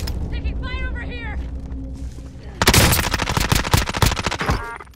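Rapid bursts of gunfire in Call of Duty: Warzone (Modern Warfare) erupt loud and close, a dense fusillade of sharp shots after a quieter stretch with voices talking over game sounds.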